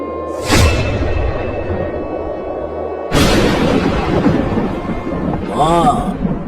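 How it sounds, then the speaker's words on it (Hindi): Heavy thunderstorm in an animated story: two loud thunder cracks about three seconds apart, each rolling into a long rumble over steady rain, with a short animated voice or effect near the end. "तूफान बहुत तेज है, जाओ जल्दी करो।"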